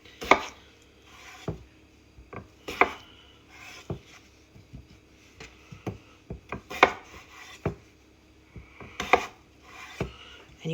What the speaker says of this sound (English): when I'm cutting, I bridge the knife with my hands so that my fingers are not in the way of the knife